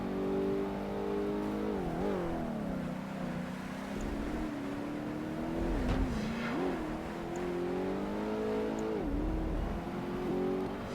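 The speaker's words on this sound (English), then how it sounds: "Big problem accelerating this car in the wet." A Ferrari F50 race car in Project Gotham Racing 2 struggles for grip on a wet track, its engine revving and droning steadily in low gear with repeated pitch dips as the throttle lifts and reapplies, loud and unbroken with no talk.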